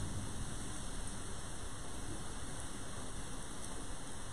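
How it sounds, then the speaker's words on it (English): Steady rain and wind outside, a constant hiss of rainfall heard from indoors, even and unbroken with no talk over it. "Do you hear that rain and winds?"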